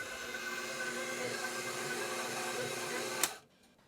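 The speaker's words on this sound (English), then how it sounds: "I'm going to put it on the 3rd notch for this particular mixer." Stand mixer kneading a sticky cinnamon bun dough on a low-middle speed, a steady mechanical hum and whir at moderate volume that cuts off with a click near the end.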